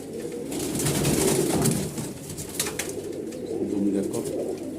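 Several Malwai Punjabi and Madrasi pigeons, including a black hen, coo nearby in a dense, steady chorus of low throaty calls that swell and ease over a few seconds.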